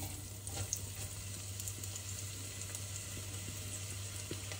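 Onions frying in a pan: a quiet, even sizzle runs without a break over a low steady hum, faint and close, with no voices.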